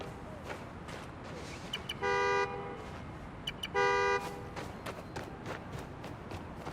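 A car horn honks twice in quick succession in the Spider-Man: Miles Morales video game, each toot short and loud over a steady background of city traffic.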